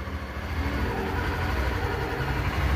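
A motorcycle that has stood unused for a long time and has a stuck clutch disc runs as the rider pulls away. Its engine gives a steady, loud, close mid-range drone with no talk over it.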